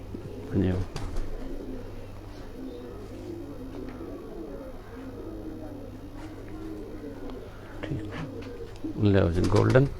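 A flock of Kasuri pigeons coos in low overlapping rolls, fairly close and steady, while a voice breaks in loudly at the start and again near the end.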